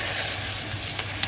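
Shredded chicken breast stir-frying in a wok for Sichuan yuxiang chicken, a continuous loud sizzle with a faint scrape or two near the end.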